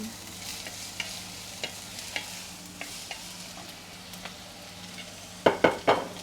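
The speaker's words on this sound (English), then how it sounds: "Onions going in." Onions frying in a pan, a steady low sizzle with occasional stirring taps, then a few louder clanks of a utensil against the pan near the end; fairly quiet and with no talking.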